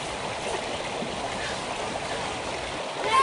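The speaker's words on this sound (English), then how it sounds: "All right, I found a good river right here. It's running this way." A river running through open country, a steady close rushing and burbling wash of water that continues without a break, with a slight swell at the end.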